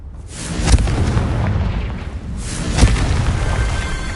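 A fiery blast spell erupts in the Hogwarts Legacy video game, two heavy booming bursts about two seconds apart over a continuous rumbling roar, loud and close with no talking.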